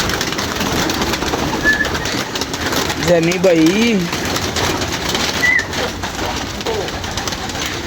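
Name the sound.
pigeons cooing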